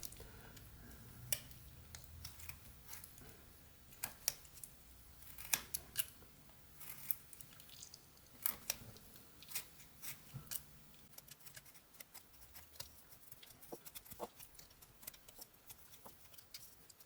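A pocket knife whittles a wooden figure, giving quiet, close, irregular clicks and small scraping cuts with soft pauses between strokes.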